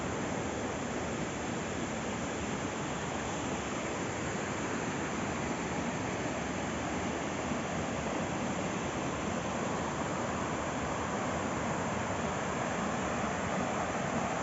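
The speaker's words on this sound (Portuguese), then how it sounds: "Só ficar sentado aqui escutando o barulho da água já é uma terapia." Flowing river water at Rio do Ouro beside the Serra do Mar park in Caraguatatuba, a steady even rushing hiss that stays constant and fairly close throughout, with no voices.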